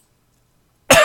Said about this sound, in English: I've been coughing for just freaking weeks on end.